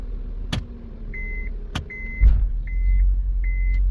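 A 2007 Honda Odyssey with an automatic transmission problem is shifted into gear. Sharp clicks and a repeating electronic chime come first, then a heavy clunk, and after it a louder, steady idle rumble.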